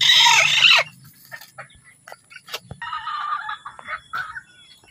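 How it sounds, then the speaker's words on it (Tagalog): A chicken gives a loud squawking burst at the start, then softer clucks and low murmurs follow intermittently, with another chicken calling in the background. "Yan yung ating mga alagang manok dyan."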